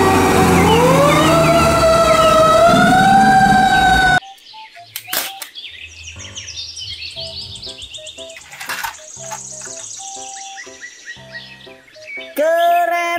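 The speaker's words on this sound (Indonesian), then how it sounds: "Mobil truk pemadam kebakaran." A loud wailing toy fire truck siren rises and falls for a few seconds, then gives way to electronic beeps and chirpy toy sound effects.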